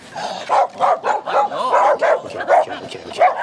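Several dogs bark and yip in quick, irregular bursts, close and loud, with some whimpering mixed in.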